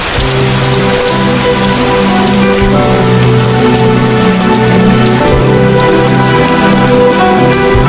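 Steady heavy rain pours down continuously, a dense loud hiss of drops hitting surfaces with a low hum underneath.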